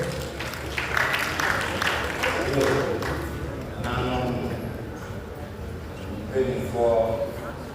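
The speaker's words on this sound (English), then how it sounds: "shall we give him a round of applause?" Audience applause for Chief McDermott at the Central Legends Honours & Award ceremony: scattered clapping from a crowd over the first few seconds, heard beneath a speaker's voice on the microphone.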